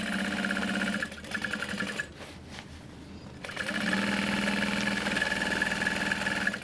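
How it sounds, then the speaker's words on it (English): A sewing machine top-stitches a backpack in two loud, steady running bursts, with a short pause where the motor drops out for about a second before it starts stitching again. "So I'm gonna roll it and top stitch up here and just a 1/4 inch, no more than a 1/4 of an inch,"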